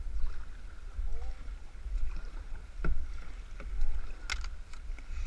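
Kayak paddles dip and stroke through river water with soft splashes and knocks over a steady low rumble of wind and flowing water, moderately close.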